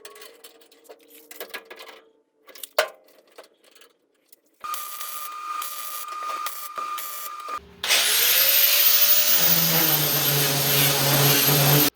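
Dual action sander running on rusty 18 gauge sheet metal, a loud steady whirring grind that kicks in partway through after quieter tool sounds and carries on alone to the end.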